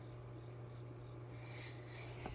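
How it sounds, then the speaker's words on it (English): Crickets chirping indoors in a bedroom, a steady high pulsing trill that continues throughout, quiet and fairly close, with a faint low hum underneath and a brief soft knock near the end. "As you hear the crickets all over my room again."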